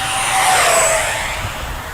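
A radio-controlled MiG-29 Fulcrum model with a 64mm electric ducted fan flies past, giving a loud, steady jet-like whine and rushing hiss that swells and fades slightly as it passes.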